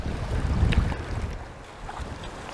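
Strong wind buffets the microphone outdoors on a dock at low tide, a steady low roar with gusts, and no voices.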